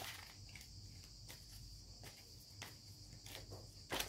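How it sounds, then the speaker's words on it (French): A cicada sings steadily through a warm summer evening, a continuous high buzzing drone that stays fairly faint and even, with a few soft knocks and rustles passing underneath. "C'est le cigale qui chante depuis pas mal de temps maintenant."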